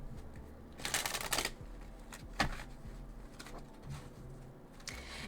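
A deck of oracle cards being shuffled and handled during a full moon tarot reading, with bursts of riffling and sliding cards, a sharp snap near the middle and softer card shuffling afterward, close and with no talking.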